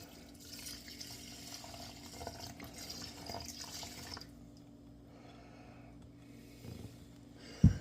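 Water runs from a tap into a pot for cooking rice, a steady, fairly quiet splashing flow that thins out partway through, ending with a short knock.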